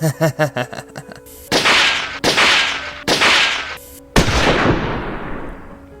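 Gunshot sound effects in a narrated horror story: four loud, sharp blasts, each trailing off in a long echoing decay, come after a quick run of rhythmic thumps.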